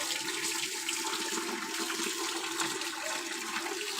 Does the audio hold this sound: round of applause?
no